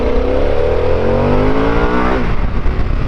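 A Harley-Davidson Pan America adventure motorcycle accelerates hard, its engine note climbing loud and close through the rev range before easing off near the end.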